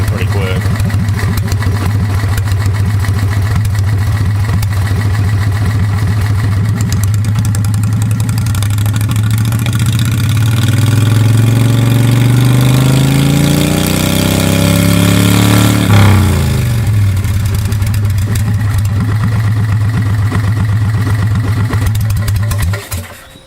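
A V-twin golf cart engine with a header silencer on its exhaust and 6-to-1 rear gears, ungoverned, runs steadily and loudly. The tone climbs as it speeds up, then drops back near the end.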